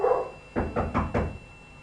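Dogs bark four times in quick succession, fairly close and loud, after a brief moment of other low noise, with no talking over them.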